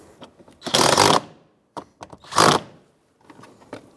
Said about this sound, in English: I'll snug them up with my 10mm socket.